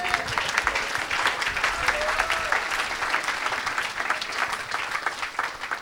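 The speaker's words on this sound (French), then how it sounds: "Est-ce que tu peux acclamer pour Jésus?" Sustained applause and cheering from a church crowd praising Jesus at an evangelistic gathering, a dense wash of clapping that stays steady throughout with scattered voices mixed in.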